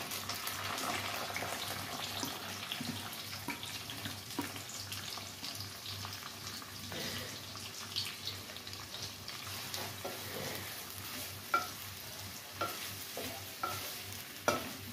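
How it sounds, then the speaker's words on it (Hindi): Three medium-sized onions frying in hot oil in a home kitchen, a steady soft sizzle with light stirring scrapes and occasional pops, fairly quiet and unbroken by talk. "ऑयल तो हमारा गर्म हो चुका है। अब हम इसमें प्याज ऐड करेंगे।"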